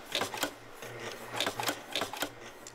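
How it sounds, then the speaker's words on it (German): A nailing machine drives nails to fasten the covers onto the reed plates and comb of a Marine Band 1896 harmonica, giving sharp, clattering mechanical strikes in quick pairs and bursts over a low steady hum, with no talking. "Auf die Stimmplatten mit dem Kanzellenkörper werden die Deckel vom Anfang genagelt."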